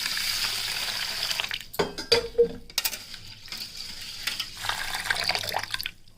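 Water splashing and trickling in a bowl as a cup of rice is swirled and rinsed, with a few sharper clinks and sloshes in between.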